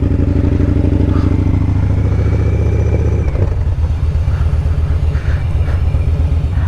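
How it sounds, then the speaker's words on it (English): A Victory motorcycle engine chugs steadily in first gear, a loud close rumbling idle with an even pulsing beat that turns rougher and more uneven partway through. "So right now I'm in first gear, just chugging along, nothing crazy."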